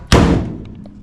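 Door of an old, rusty truck being shut, a single loud, close thud with a hollow metallic ring that decays quickly, followed by a few faint small clicks.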